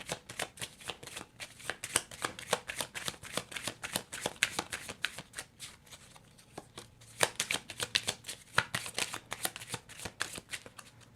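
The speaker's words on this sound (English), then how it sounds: "I'm going to shuffle and see what we get for pile 2" A deck of tarot cards being shuffled by hand in repeated quick riffling bursts, close and crisp, with short pauses between rounds and no talking.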